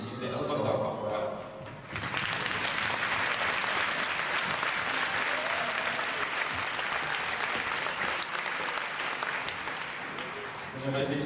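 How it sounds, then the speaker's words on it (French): An audience applauds young gymnasts at a gymnastics memorial event. Loud, sustained clapping fills a large hall for about nine seconds, and voices can be heard before and after it. "J'aimerais vous féliciter et vous applaudir au nom de tous"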